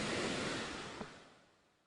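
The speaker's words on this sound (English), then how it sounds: "this was Arundecoit Creek, roaring down and overflowing" Arundecoit Creek at Linear Park in Penfield, swollen by flooding and overflowing its banks, gives off a steady broadband roar of rushing water that slowly fades, with no voices.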